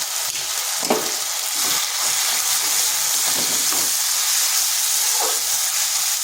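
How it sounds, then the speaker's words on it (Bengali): Ground masala of cumin, coriander and Kashmiri chili powder with a splash of water sizzles and hisses steadily in a pan, broken by a few scraping stirs of a spatula, close and continuous with no talk. "মশলাটা একটু ভালো করে কষে নিচ্ছি।"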